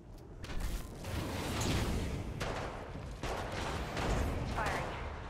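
Apex Legends gunfire: sustained bursts of rapid shots and booming impacts layered into dense, loud battle noise that swells and dips over several seconds.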